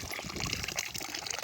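Water trickles and gurgles from a drip irrigation tube feeding garden plants, a close, busy, bubbling flow with no pauses or voices.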